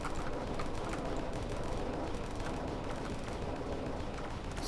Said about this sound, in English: Let's fire a couple of missiles at him and block this guy's fire.